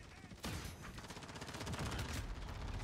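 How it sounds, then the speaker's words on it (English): Rapid gunfire from the video game Call of Duty Modern Warfare, dense and continuous bursts of automatic shots at close range, loud and steady for nearly the whole stretch with no talk over it. "I'm just shooting my teammates like crazy."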